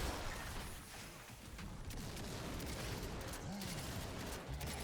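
Continuous rapid gunfire from a Gears of War game match, a dense rattling fusillade of shots with a few sharper pops, steady and loud throughout.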